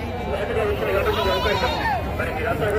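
Goats bleating at a busy livestock market for goats and sheep in Gudur, their calls mixed with a constant babble of crowd voices and chatter from people nearby.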